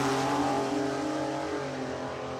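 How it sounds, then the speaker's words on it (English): V6 Buick-powered radial drag race car accelerating at Willowbank, Australia, a loud, close, sustained engine roar that holds strong and then fades slightly as the car pulls away. "we know that Luke, once he lights the wick up on this V6 Buick"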